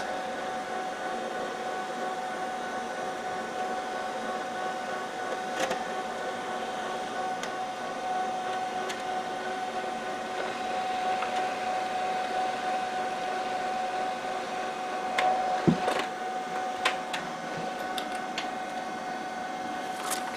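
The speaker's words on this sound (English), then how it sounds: "And here we go. Printing from MS-DOS." HP LaserJet 5P laser printer running a print job, a steady low mechanical hum and whir with faint clicks and a brief clunk near the end, close and moderately quiet throughout.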